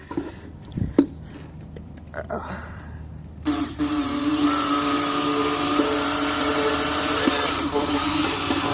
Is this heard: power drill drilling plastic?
yes